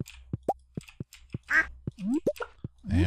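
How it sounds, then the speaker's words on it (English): Chickens in the Stardew Valley farming game give short, punchy clucks and quack-like calls in a quick irregular series, a few with a ringing, echoey tail, loud and close with no talking. "I like the sort of echoey cluck they do sometimes"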